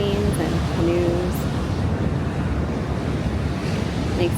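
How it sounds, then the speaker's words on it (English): Steady ocean surf rolling in at Waikiki beach near Diamond Head, a continuous loud wash of waves with wind buffeting the microphone and brief faint voices in the background. "Of course, you've got Diamond Head and the ocean. Surfers coming in on that surf break there"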